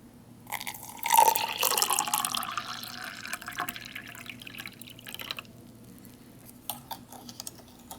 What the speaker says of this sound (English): And cold water for the iced tea.